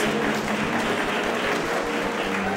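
Audience at a Tetris qualifier competition applauds both players, a dense, loud burst of clapping that fills the short stretch without any talk.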